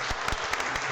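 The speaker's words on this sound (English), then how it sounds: "Clapping for everyone making it." Players at a card-game world championship applaud themselves, a short burst of dense, steady clapping from a crowd filling the room.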